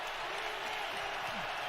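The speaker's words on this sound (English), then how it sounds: "Now this crowd is into it." Stadium crowd at a Colts vs Vikings NFL game roaring in a steady, broad wash of cheering, distant and continuous with no clear breaks.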